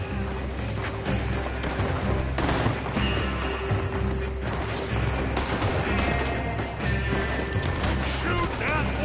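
Gunfire from a Red Dead Redemption 2 shootout keeps going the whole time. Rapid rifle and revolver shots overlap in dense volleys with crashes mixed in, all fairly loud and close.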